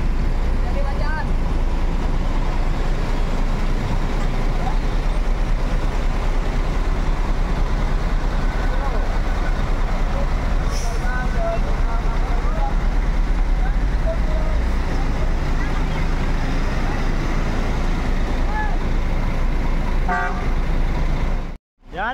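Sumatra-bound buses pull away in a convoy from a terminal, their engines rumbling and a steady roar of traffic running throughout, with scattered horn toots and voices in the background.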